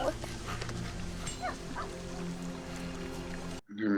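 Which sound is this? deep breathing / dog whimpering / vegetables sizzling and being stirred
dog whimpering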